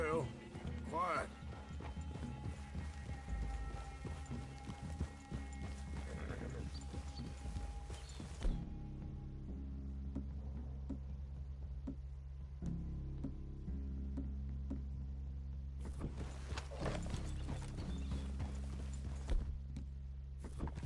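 Horse hooves clip-clop steadily beneath ongoing Red Dead Redemption 2 dialogue and background music, with a brief whinny near the start.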